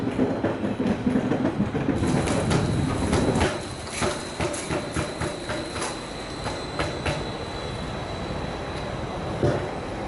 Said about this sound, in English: Here we have an interesting train from Szombathely